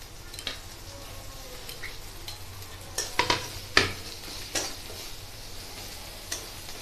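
Ground turmeric, coriander and cumin with chopped green chilli and coriander leaves frying in a pan over low heat for Kolkata-style Mughlai paratha, a soft steady sizzle with a few scattered clinks and stirring knocks, no talk.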